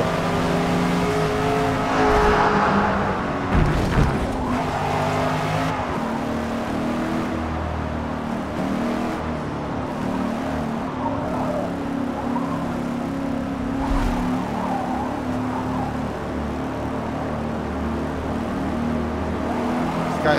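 A race car engine drones and revs continuously in the Forza Motorsport 8 racing game, with shifting pitch and a brief harsher burst near the start, loud and steady throughout, no voices.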